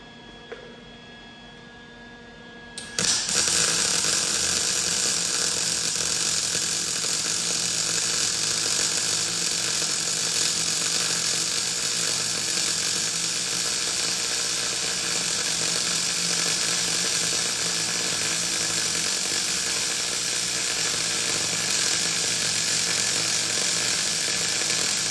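A Lincoln Electric 180HD MIG welder lays a bead at a 2.75 setting, starting abruptly after a quiet moment and then running as a steady, loud, continuous crackling buzz for over twenty seconds, heard alone.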